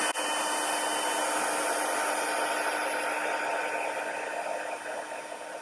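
Heat embossing tool blowing hot air over cardstock, a steady, loud, close whoosh that holds constant and eases slightly toward the end.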